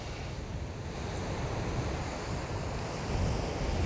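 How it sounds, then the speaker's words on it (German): Surf rolling onto a beach at the El Portus campsite near Cartagena, a continuous washing roar mixed with gusty wind buffeting the microphone, with no voices. "da bin ich nun an dem Strand"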